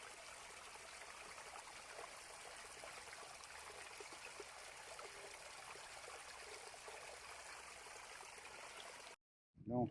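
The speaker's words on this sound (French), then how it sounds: "on voit cette petite rivière sauvage qui coule." A small wild river flows below in woodland, a steady broadband rush and trickle of water heard close and continuous, ending abruptly with a brief louder knock.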